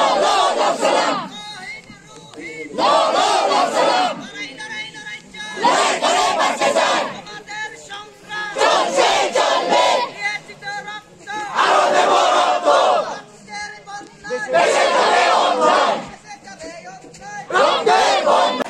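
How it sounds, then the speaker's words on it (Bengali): Gathered party workers and villagers at a memorial tribute chant a political slogan in loud rhythmic unison bursts, repeating with short pauses between each shouted phrase. "সমবেত দলীয় নেতাকর্মী গ্রামবাসীদের পক্ষ থেকে কমরেড কমরেড লাল সালাম বলে"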